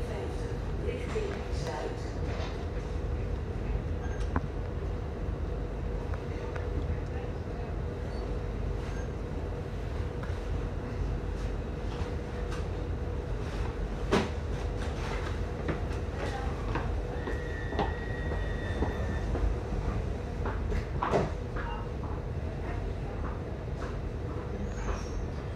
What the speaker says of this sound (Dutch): Deze metro gaat richting zuid.